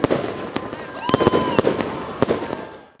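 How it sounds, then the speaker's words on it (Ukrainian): Fireworks at the main city Christmas tree celebration in Khust, Zakarpattia: several sharp, loud bangs and crackles with rising whistles, over a murmur of crowd voices. "Не обійшло свято без подарунків та феєрверку."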